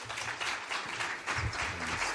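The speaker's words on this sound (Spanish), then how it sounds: "Un aplauso a los panelistas," Conference audience at the GESS México 2016 education-technology panel applauds the panelists, a short burst of dense clapping with slight swells, no speech over it.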